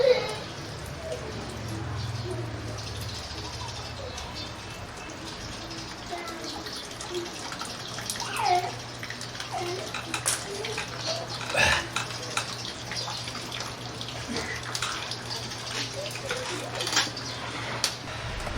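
Hot coolant drains from a 2018 Honda CB500X motorcycle during a thermostat and coolant service, a steady trickle and splash of liquid running for the whole stretch with scattered drips and small knocks.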